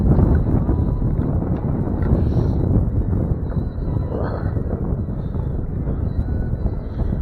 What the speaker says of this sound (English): the wind picking up big time